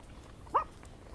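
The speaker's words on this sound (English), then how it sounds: "I heard you bark" A dog gives one short, sharp bark at moderate distance over a low, steady background hum. Nothing else stands out before or after it.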